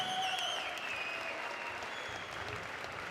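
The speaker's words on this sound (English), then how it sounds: "big round of applause to both fighters for a fantastic contest" A crowd applauds both fighters after a K1-rules kickboxing contest, steady distant clapping filling the hall at moderate volume with a faint tonal ring over it.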